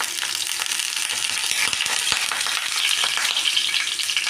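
Mustard seeds splutter in hot tempering oil: a continuous close frying hiss scattered with small sharp pops and crackles, with a few stronger snaps near the middle.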